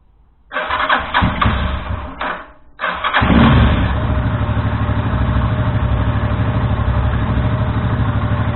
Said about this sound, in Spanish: Entonces voy a arrancar la moto.